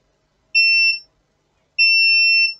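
A multimeter set to continuity beeps while probing contacts on a faulty Nintendo Switch, giving two loud, pure electronic tones of about half a second and three-quarters of a second, separated by a short silence.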